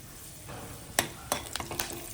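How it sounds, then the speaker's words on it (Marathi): Curry leaves drop into hot oil for a Kerala-style fish fry, giving quiet sizzling with a few sharp crackling pops. No one speaks. "तेल घातलेलं आहे, तेलामध्ये टाकतोय कढीपत्ता"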